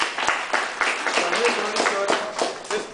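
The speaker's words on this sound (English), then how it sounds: "Give clap." A group claps hands in a karate class, a series of quick, moderately loud claps with talking over them.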